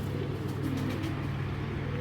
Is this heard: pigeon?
yes